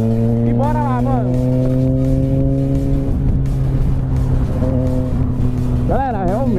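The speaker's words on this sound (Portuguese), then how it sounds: "Mas vocês vão sentir legal o ronco dessa moto" A Yamaha XJ6 motorcycle engine drones loud and steady while riding through heavy traffic, its even tone shifting slightly in pitch, with a voice briefly rising over it.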